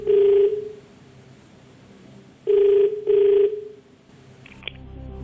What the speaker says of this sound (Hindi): फोन लगाया जाए कंप्यूटर जी।